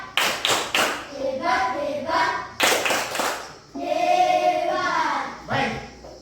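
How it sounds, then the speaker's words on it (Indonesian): A primary school class claps out a rhythmic 'tepuk hebat' chant, bursts of clapping alternating with children's chanting voices, close and loud. "tepuk hebat untuk kita semua"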